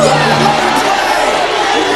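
A cartoon crowd in a Captain Planet episode cheers loudly and steadily, a dense roar of voices filling the whole moment, with a voice speaking over it early on.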